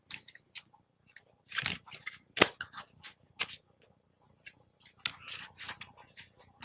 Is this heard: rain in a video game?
no